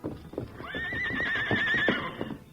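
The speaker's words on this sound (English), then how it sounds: "At the command of his master, the heels of the great horse Silver lashed out at the heavy door" A large horse neighs in a long, loud whinny over clip-clopping hooves, with a stamp or thud at the close, heard close and without talk.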